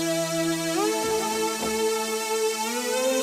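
A Spire synth pad with its filter opened up plays sustained chords, the bright harmonic tones gliding and shifting between notes, clear and alone.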